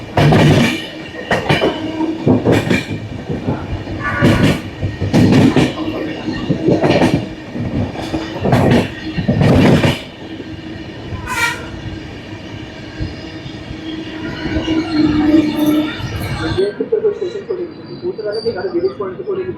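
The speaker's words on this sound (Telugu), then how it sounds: "మనం సింహాచలం స్టేషన్ నుంచి కూడా డిపార్చర్ అయిపోయాము 8:10కి" A passenger train on the Visakhapatnam–Araku line, the Kirandul Passenger, pulls away from Simhachalam station with loud rhythmic wheel thumps over rail joints, then a sustained horn blast, all close and prominent.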